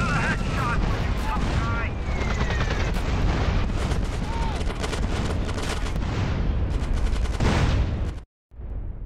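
Gunfire in GTA San Andreas, a dense stretch of rapid shots and booms with shouting voices mixed in, ending in a sudden brief silence.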